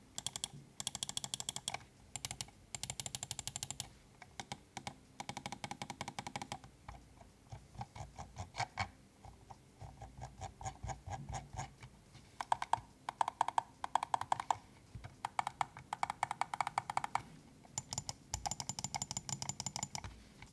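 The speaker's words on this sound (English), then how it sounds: "The clicks are quite good, snappy, not too loud, and no pre-travel." Repeated button clicks from a Fnatic Bolt wireless gaming mouse, crisp and close, arriving in rapid bursts and separate runs with short pauses between them and nothing else heard.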